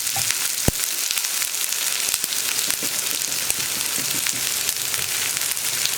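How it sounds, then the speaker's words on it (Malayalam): Chopped onions and green chillies sizzling in a pan for masala dosa filling, a dense, even crackling hiss close by, with an occasional sharp tap of a utensil. "ഇനി നമുക്കിതിലേക്ക് നമ്മൾ കട്ട് ചെയ്ത് വെച്ചിരിക്കുന്ന സവോളയും പച്ചമുളകും ചേർക്കാം."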